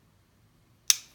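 Glock pistol trigger with an aftermarket Kineti Tech trigger shoe resetting, a single crisp, faint click after near silence.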